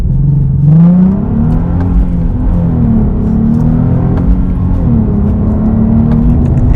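A 2017 Nissan 370Z sports car accelerates hard on a straight, its engine note rising and falling through loud revs with gear changes, close and alone without talk.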